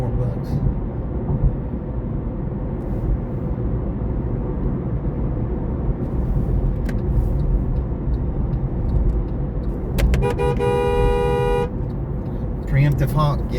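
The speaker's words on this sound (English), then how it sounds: "Preemptive honk." A car horn honks from inside an Uber driver's Chevy Bolt in San Antonio, Texas: a few short blasts around the middle of the recording, then a brief second toot, set over steady cabin and road rumble with people talking.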